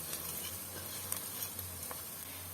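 Beans with garlic and smoked paprika fry in a pan with a close, steady sizzle, a few light clicks and pops, and a low hum beneath, with no talking.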